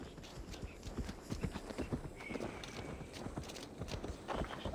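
A horse trots in Assassin's Creed Valhalla, close rhythmic hoof clip-clops on hard ground, steady and fairly loud with a brief whinny-like tone partway through.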